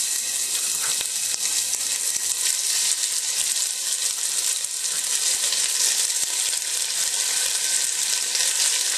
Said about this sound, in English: and it's gonna sizzle.